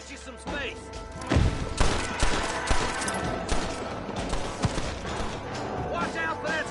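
Gunfire in Red Dead Redemption on PS5, with loud shots, thuds and crashing impacts bursting irregularly over a dense game soundtrack and background ambience, close and heavy throughout.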